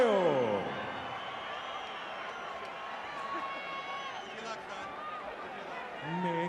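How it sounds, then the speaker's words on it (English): An arena crowd at a boxing event applauds and cheers the national anthem singer, a broad wash of distant clapping and murmur under a voice that talks through it. "a round of applause for Mario"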